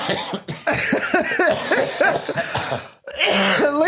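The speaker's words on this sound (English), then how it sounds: "But I'm trying not to laugh so I don't cough too much." A fit of harsh, raspy coughing, several bursts in quick succession with a brief pause, close and loud.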